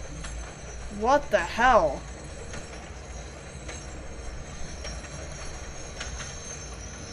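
A train rolling along rails in the video game Ode to a Moon gives a steady low rumble throughout, while a voice briefly exclaims near the start.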